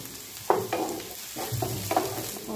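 Crushed ginger and garlic dropped into a pan with onions, giving a close sizzle that flares with each addition and several scraping stirs, steady frying hiss throughout, no voices.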